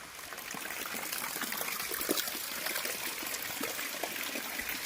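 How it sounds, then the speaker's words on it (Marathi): Heavy rain pours down beside a temple in a dense, continuous hiss with steady splashing, loud and close, no voices. "पाऊस पडतोय खूप."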